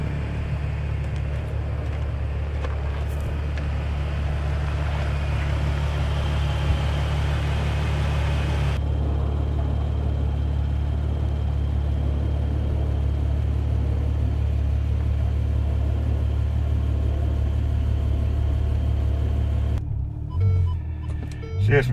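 Ferrari GTC4 Lusso T driving, a deep steady engine rumble heard from inside the cabin, constant and moderately loud, with a brief change in road noise and some clatter at the very end.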